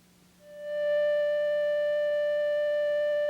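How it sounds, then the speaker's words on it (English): Casio keyboard flute tone: after a moment of quiet a pure, whistle-like note swells in quickly and then holds at perfectly steady volume without wavering, alone and clean. "the flute sound continues at the same volume as long as a key is pressed"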